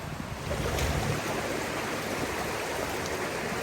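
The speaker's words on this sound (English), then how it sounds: "And this is the river we're going to wash in." River water rushes and flows in a steady broadband wash, close and fairly loud, with some wind buffeting the microphone and no talking.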